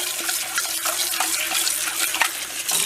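Water runs from a kitchen tap into a sink as a ramen pot is rinsed, a steady broadband splashing rush with small clanks against the pot, close by and with no talk.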